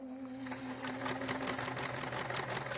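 A sewing machine stitching along the edge of a quilt binding, a quiet, steady rapid whir with regular clicking beats, close and alone.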